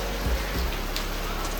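Steady rain falling outdoors in the lanes of Kumartuli, a dense close hiss of drops on surfaces with a couple of low thuds, continuous and without speech.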